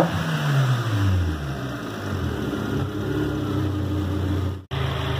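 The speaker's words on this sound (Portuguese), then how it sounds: "Eu vou ligar o carro, vou deixar o carro esquentar um pouco, vou mostrar pra vocês o barulho dele." Renault Logan 1.0 engine fitted with a sport exhaust and sport intake filter, revving up then settling into a steady mid-pitched drone, close and loud, with a brief cut near the end before it resumes.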